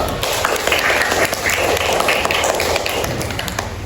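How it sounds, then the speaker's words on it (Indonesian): A classroom of students claps for a classmate during a practice teaching lesson, a dense, steady patter of many hands near and fairly loud, running the whole time before fading slightly at the end. "tepuk tangan dulu"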